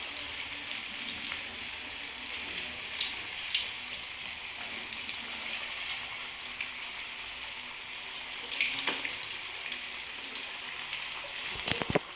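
Vegetable manchurian balls deep-frying in hot oil, a dense, steady crackling sizzle that holds close and even throughout, with a few louder pops and scrapes near the end.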